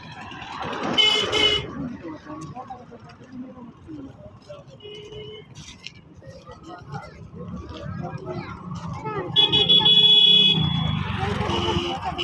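Road traffic at a busy fair, with car and vehicle horns tooting repeatedly over a steady crowd murmur and engine rumble, and people talking throughout.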